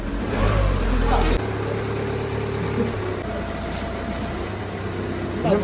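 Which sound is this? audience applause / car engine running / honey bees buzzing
car engine running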